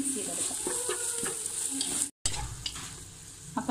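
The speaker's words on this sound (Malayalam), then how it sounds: "അപ്പം നമുക്ക് നന്നായിട്ട് മിക്സ് ചെയ്തെടുക്കാം." Fried rice being stirred with soy sauce in a hot pan, steady sizzle with scraping spatula strokes and brief knocks, fairly quiet and close, with one short dropout midway.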